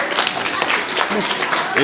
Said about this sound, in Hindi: शाबाश ताली बजाओ